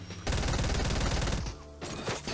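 Rapid bursts of gunfire fill a multiplayer shooter game, close and loud, firing in a dense fusillade before a short pause and another burst.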